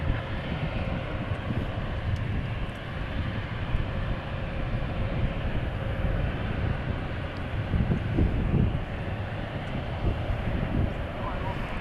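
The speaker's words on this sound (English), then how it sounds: "737-800 arriving, and then 747-8 from Chicago O'Hare" Jet engine rumble from a Boeing 737-800 and a Boeing 747-8 arriving at DFW airport, a broad continuous roar at moderate loudness, with a person talking over it.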